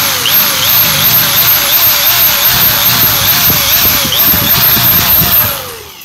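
An electric drill bores out a bolt on a Proline pool pump, running loud and close with a rhythmically wavering whine for several seconds before winding down at the end.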